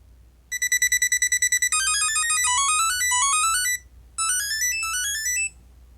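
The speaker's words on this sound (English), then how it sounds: "you can set the volume and what kind of ringing tone" Samsung SmartTag ringing tone: a bright electronic melody alone, starting with about ten quick repeated beeps, then rapid rising arpeggio runs that stop briefly and resume, clear and fairly loud.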